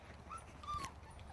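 A dog outside on wet ground after rain gives a brief, high, thin whimper with a rising and falling whine, fairly faint against low background noise.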